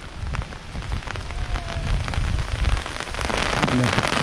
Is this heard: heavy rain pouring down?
yes